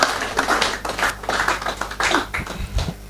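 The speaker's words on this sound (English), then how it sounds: "Please give him a round of applause for what he's doing." Scattered audience clapping at an investing and trading seminar, a small group applauding with uneven, fairly close hand claps that rise and dip for about three seconds without a clear crescendo.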